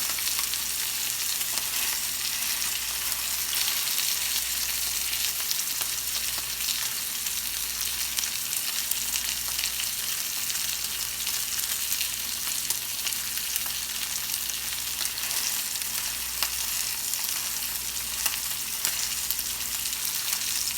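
Filet mignon fillets frying in a pan, a steady close sizzle and crackle running continuously with no talk over it.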